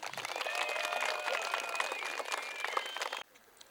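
Children and other spectators in a pine grove clap and cheer loudly at a cross-country race, a busy burst of applause with voices mixed in that stops abruptly near the end.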